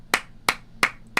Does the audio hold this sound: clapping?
yes